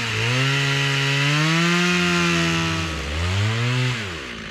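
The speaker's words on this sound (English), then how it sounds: "So let's do that plunge cut." A chainsaw bores a plunge cut into a leaning tree, its loud, close engine whine holding steady, then dipping briefly and revving back up before easing off at the end.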